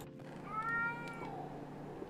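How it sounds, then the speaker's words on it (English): A pet cat lets out a single drawn-out, rising and falling meow over a low steady background hum, fairly close and clear. "Sorry for my cat, by the way."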